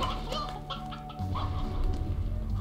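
Chickens cluck in the video game Slime Rancher, several short clucks scattered over a steady low game hum and background music.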